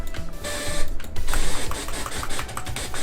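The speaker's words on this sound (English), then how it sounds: "This is noise. Works as 808s and kicks too." Noise preset in FL Studio's default plugins, used for 808s and kicks, plays as a loud run of rhythmic electronic hits and bursts layered over low thumps, with no talking.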